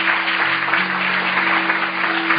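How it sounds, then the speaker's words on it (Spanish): A church congregation applauds a first-time visitor, a loud, continuous, dense wash of clapping that sounds muffled and band-limited, with a steady hum beneath. "Démosle un aplauso fuerte a la visita."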